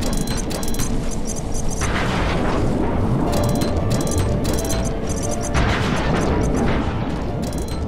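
Bombs go off in the Sly 3 video game, a dense, loud stretch of heavy booming blasts and crashing debris that overlap continuously without pause.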